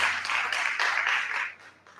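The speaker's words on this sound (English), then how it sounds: "A round of applause for him, please." A gathering at an event on Nigeria's apple industry bursts into applause for an executive director, close, dense clapping from many hands that holds for about a second and a half before thinning out.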